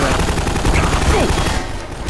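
Dense, rapid gunfire from a video game fills the scene, a loud continuous rattle of shots that eases slightly toward the end.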